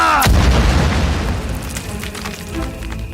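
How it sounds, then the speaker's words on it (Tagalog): A hand grenade blows up in a Filipino audio drama battle scene, a single loud, heavy boom with a sharp onset followed by a long rumbling decay of debris and ringing. "Kaya nang sumabog ang granada, nasapul ang mga kamay at paa nito."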